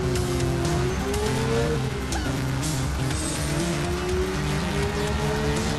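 In the Watch Dogs video game, a motorcycle engine drones loud and close throughout, holding a steady, buzzing rev with slight rises and dips in pitch and no pauses.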